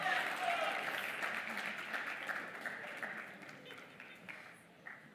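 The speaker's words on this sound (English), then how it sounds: "One more time, a round of applause to him." An audience at an inter-college entrepreneurship event applauds a speaker, steady dense clapping that starts strong and slowly thins out over several seconds.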